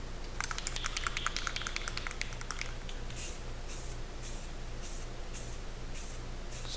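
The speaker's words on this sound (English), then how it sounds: "Just give it a couple quick coats of Rust-Oleum" Rust-Oleum spray paint hisses onto a CNC-cut Christmas ornament, first in a burst of rapid rattling sprays, then in several short, evenly spaced hissing blasts, close and fairly loud with no talking.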